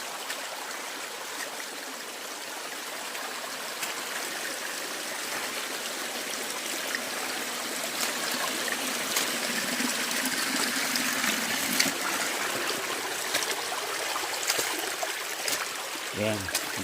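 A clear spring-fed forest creek flows with a steady broadband rush and trickle. The water stays constant and fairly close throughout.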